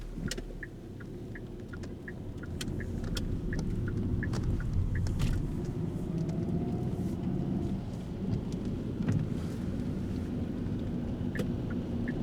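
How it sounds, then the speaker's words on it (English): A thunderstorm building over a street corner outside a distillery in Anderson, Indiana, with rain pattering steadily, sharp drips and taps, and low rolling rumbles of thunder underneath, continuous and moderately loud with no talking. "Looks like we got some storms brewing."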